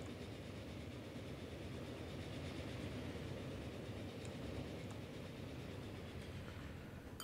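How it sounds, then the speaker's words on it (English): A train passing in the railway simulation game Transport Fever 2, a steady rumbling rolling of wagons on rails that holds for the whole stretch without a break. "Well, now we probably meet our first train."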